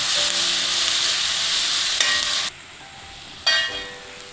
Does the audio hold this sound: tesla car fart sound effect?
no